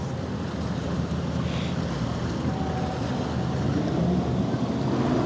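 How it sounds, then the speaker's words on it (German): Strong wind at around force 6 blows across the deck of the AIDAprima cruise ship leaving Hamburg, a steady, loud roar of gusts buffeting the microphone, with ship and water rumble underneath. "also der Wind scheint etwas nachzulassen."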